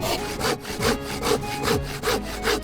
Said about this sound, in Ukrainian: Спробуємо перепиляти нею декілька впавших сосен.